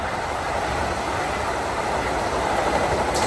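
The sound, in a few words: train moving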